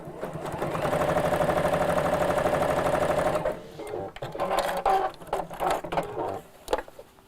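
A domestic sewing machine stitches a gift bag in a steady fast whir for about three and a half seconds, then stops; after that come short uneven bursts of handling and slower stitching.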